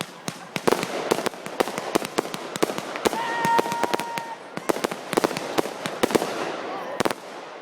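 New Year's fireworks going off in rapid, irregular bursts of sharp bangs and crackles, some near and loud, with a brief whistle rising among them and people talking faintly in between.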